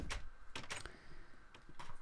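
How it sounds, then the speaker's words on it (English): Doors being locked in Minecraft, heard as a handful of short wooden clunks and clicks in an uneven rhythm, close and fairly quiet, with no talking. "I have to lock down those doors."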